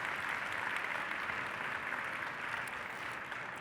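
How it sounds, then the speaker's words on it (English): Audience applause for the sponsors at a startup conference opening session, a dense, even wash of clapping from a large hall lasting the whole stretch. "So if I can ask you for the first round of applause today, please show your appreciation to all of the sponsors who've made this week possible."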